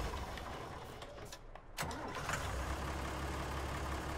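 Green tractor engine in Farming Simulator 19 cranking and firing up partway through, then settling into a steady low idle rumble, fairly close with no talking.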